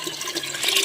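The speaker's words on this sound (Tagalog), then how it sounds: "Napupuno na po ni Mami." Water pours and splashes into a container, a brief rushing gurgle that swells toward the end, close and moderately loud.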